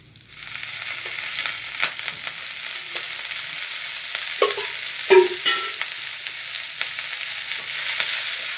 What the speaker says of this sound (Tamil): இதை நான் வதக்க போகிறேன்